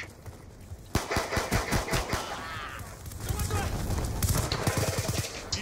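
Rapid gunfire from a pistol and shotgun in the Black Ops 2 team deathmatch video game, with bursts of sharp shots through the clip under a steady noisy game background.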